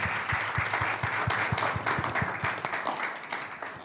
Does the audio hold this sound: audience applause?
yes